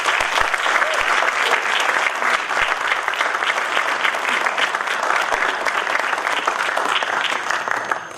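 Audience at a Toastmasters meeting applauds to welcome a speaker, a DTM, to the stage: dense, steady clapping from a large room that holds at full strength for about eight seconds with no voices over it.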